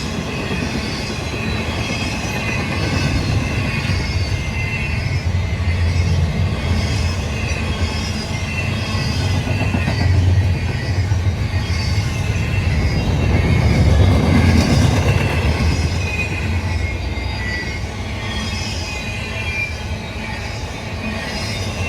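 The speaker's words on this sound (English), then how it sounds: "caught several priority intermodal trains" A long intermodal freight train rumbles steadily past Utica Union Station, New York, in snowy weather at close range, wheels grinding and squealing on the rails with a loud, continuous roar and no voices.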